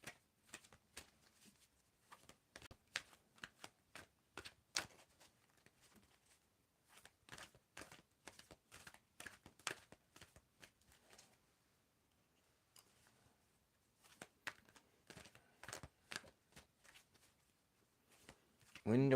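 Tarot cards shuffled by hand in bursts of rapid, crisp flicking riffles, close and fairly quiet, with pauses in between and a louder burst at the very end.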